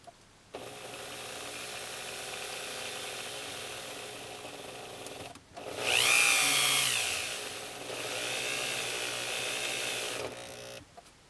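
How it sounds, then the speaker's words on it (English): A small drill bit bores into a 24K gold wedding band, a steady whining motor hum with a louder, rising burst of strained grinding in the middle as the bit binds, then settling back to an even drone before stopping. "Be really careful not to break this drill bit."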